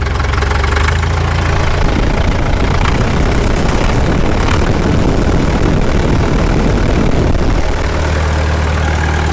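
A Caterpillar D2 dozer engine runs loud and close with the throttle raised, a steady heavy knocking chug that holds throughout with no pauses.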